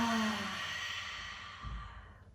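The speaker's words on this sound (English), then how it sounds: "Open your mouth and exhale everything out." A long exhale out through an open mouth during a yoga session, one close, breathy sigh that fades away slowly. A soft low bump follows near the end.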